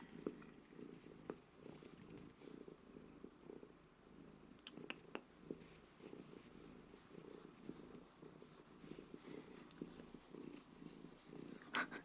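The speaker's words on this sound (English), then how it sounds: "because she purrs all the time" A cat purring softly and continuously at close range, a steady low rumble with no voices over it.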